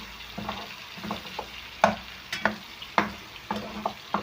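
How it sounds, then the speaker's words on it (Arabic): Chicken with a big spoonful of mashed garlic frying in a pan and being stirred, repeated scraping strokes of a utensil about every half second over a soft continuous sizzle, close and clear, no talking. "هنا هننزل بمعلقه توم مهروسه كبيره ونقلبها برضو مع الفراخ كده"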